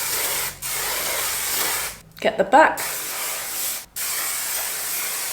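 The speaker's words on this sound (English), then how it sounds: "I shake it well first, and then I just spray all over." Curlsmith hair spray hisses in long continuous bursts over curly hair, loud and close, with short pauses between sprays and a brief spoken remark in one gap.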